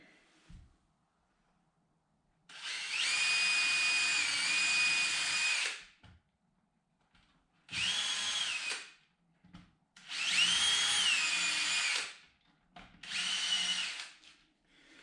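Power drill driving screws into a wooden sifter frame, four separate whirring bursts of a few seconds each with short silences between, the motor pitch dipping as each screw seats.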